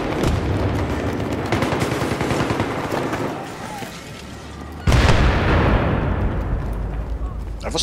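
Gunfire in Battlefield 3 team deathmatch on Operation 925 rattles in dense bursts, pauses, then erupts again with a loud boom and rapid shots close by, with voices talking over the action.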